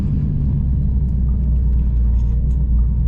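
Steady low rumble of a car's drivetrain with 3.7 rear end gears whining, a continuous loud drone with no talking.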